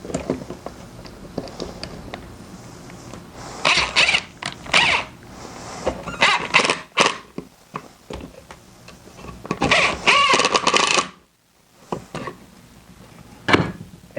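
A self-tapping pocket screw is driven into wood with a power driver, giving several loud, creaking whirring bursts with short pauses between them, then a brief silence and one last short burst.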